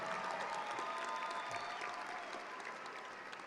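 Steady crowd applause from a high school graduation audience, dense and sustained throughout, easing slightly toward the end.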